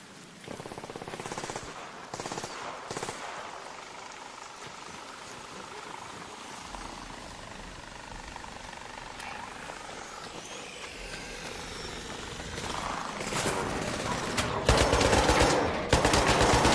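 Gunfire in the shooter game Arc Raiders, with sustained automatic weapon bursts and shots over a continuous rumbling backdrop, loudest toward the end, with no voices.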